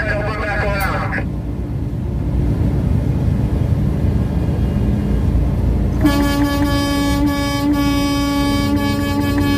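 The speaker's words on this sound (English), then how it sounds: "honk for freedom, boys" Convoy vehicles honk around the Capitol in Jefferson City, first a brief toot, then from about six seconds a sustained, loud, multi-toned horn blast over steady road rumble and voices.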